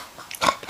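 A toddler's voice imitates a pig's oink in a few short, nasal bursts that grow louder toward the end, close and clear with no other talk.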